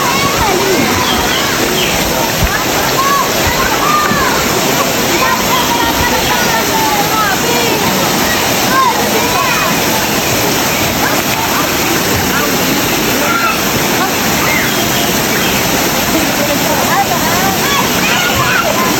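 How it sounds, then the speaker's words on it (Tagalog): Navarrete Falls in San Andres, Quezon pours in a steady, loud rush of falling water with splashing close by, a continuous broadband roar that fills the whole stretch. "Ito nga ho ang Navarrete Falls."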